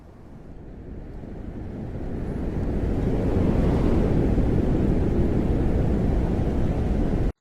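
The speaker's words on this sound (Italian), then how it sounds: "È molto forte come vento" Strong, steady roar of synthetic wind from a Krotos Studio sound effect, with a broad rushing noise that swells over the first few seconds and then holds loud and constant, with no voices.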